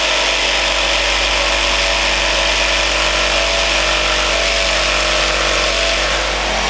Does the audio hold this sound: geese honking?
no